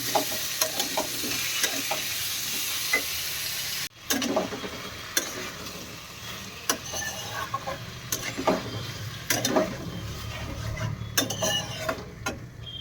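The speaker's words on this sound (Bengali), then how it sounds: "আলুগুলো ভাজা হয়ে গেছে আর একটু ভাজবো" Potatoes fry in a pan with a continuous sizzle, punctuated by clinks and scrapes of a spoon stirring against metal.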